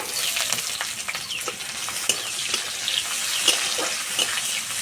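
Chopped onion fries in mustard oil with crushed garlic, dried red chillies and panch phoron, a soft close sizzle broken by repeated scraping stirs of a spoon.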